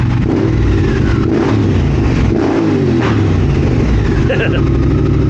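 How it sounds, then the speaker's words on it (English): A 2022 Triumph Speed Twin motorcycle with an X Pipe exhaust revs hard, its engine rising and falling loudly through the clip, with pops and crackles on the overrun as a person speaks over it. "Yeah, that popping and crackling is going to be."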